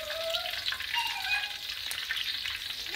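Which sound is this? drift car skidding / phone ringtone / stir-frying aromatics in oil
stir-frying aromatics in oil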